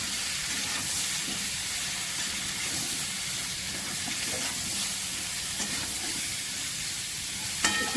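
Ridge gourd and prawns sauté with chilli powder, a green chilli and spices in a pan, giving a steady, close sizzling hiss with faint stirring scrapes throughout and no talking.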